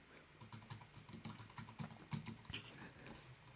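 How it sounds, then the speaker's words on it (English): Rapid, irregular clicking of keys on a computer keyboard, typed close up in a steady burst with slight background noise and no speech. "I'm just going to keep typing here rather than wait for it to catch up with me here"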